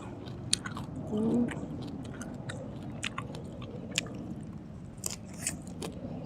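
Someone chews crunchy kale flower stems with fried chicken skin, close to the mic. The bites are steady and wet-crisp, with a brief hum of a voice partway through.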